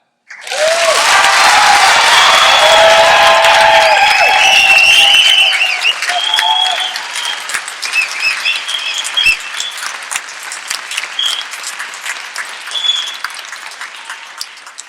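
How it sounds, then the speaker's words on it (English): A school auditorium audience breaks into loud, sustained applause at a naming ceremony. After about five seconds the clapping thins to scattered claps and cheers. "You can clap."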